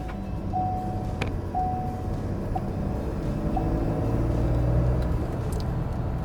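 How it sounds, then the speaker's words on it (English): Ford F150 XLT pickup with a 2.7L EcoBoost engine driving while held in third gear, giving a steady low road rumble and drone heard from inside the cab, fairly quiet and continuous. "It does appear that it's locking it in 3rd gear. The RPMs are staying high."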